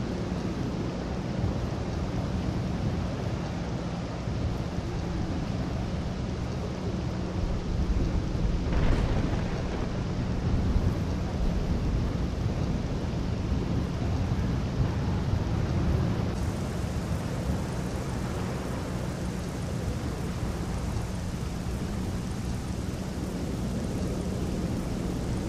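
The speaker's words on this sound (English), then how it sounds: "let's just listen to this thunder and lightning and the clouds" Steady rain hisses throughout, with a low thunder rumble and one brief crack partway through; no voices. Weather sounds from the racing video game Assetto Corsa.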